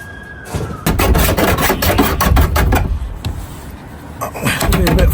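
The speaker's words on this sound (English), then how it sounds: "A bit filing." Close, loud rasping strokes come from a file working the metal edge of a freshly cut roof hole in a camper van, in repeated bursts with short pauses between them.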